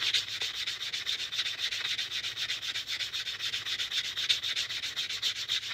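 A state quarter coin ring being sanded with a sanding block gives a steady, close scratchy rubbing, repeated strokes running continuously without pause and with no voices.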